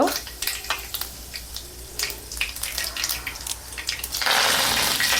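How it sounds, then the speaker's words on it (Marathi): Mustard seeds crackle in three to four spoons of hot oil for a vada pav tempering: scattered sharp pops at close range, then a sudden louder, continuous sizzle near the end. "मोहरी छान तडतडली की जिरं घालणार आहोत"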